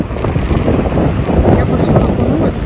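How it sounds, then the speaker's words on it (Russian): Wind gusts roar at the seaside on Djerba, Tunisia, buffeting the microphone in a loud, continuous low rush, with a voice speaking under it. "но все равно ветрено"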